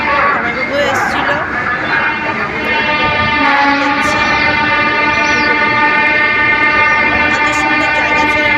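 A train at a railway station, with a steady horn-like tonal drone and rolling rail noise running throughout, loud and near, with people talking underneath.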